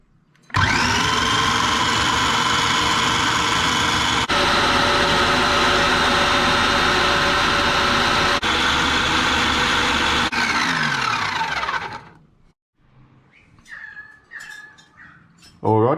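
Kitchen blender chopping pandan leaves in plain water, a loud steady motor whir with a few pitch shifts over about twelve seconds, then it stops and faint bird calls and a voice are left.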